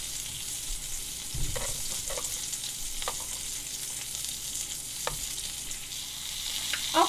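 A T-bone steak sizzles in a cast iron skillet with a steady, close, hissing fry, broken by scattered small pops and ticks throughout; no one speaks.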